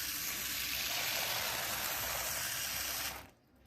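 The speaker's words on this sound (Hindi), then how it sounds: "इन पत्तों पर गिरता पानी, ये देखो" Steady, hissing rush of water pouring onto the leaves of garden plants, continuous and fairly close, then cutting off abruptly near the end.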